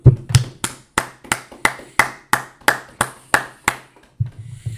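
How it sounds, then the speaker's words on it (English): At the close of a class, a small group claps in slow unison, about a dozen sharp, evenly spaced claps, nearby and clear, with a faint voice at the start and end. "We'll clap it up."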